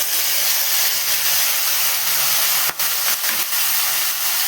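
Sliced onions fry in a pan for a tamarind curry, giving off a steady, dense sizzling hiss that stays loud and even throughout, broken by a couple of brief crackles.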